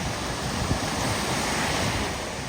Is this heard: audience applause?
no